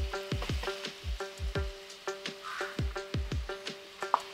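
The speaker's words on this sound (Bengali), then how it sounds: "পেঁয়াজটা 1-2 মিনিট ভাজা হবে।" Finely chopped onion fries in a pan with a soft, steady sizzle. Regular knocks and stirring clatter sound close by.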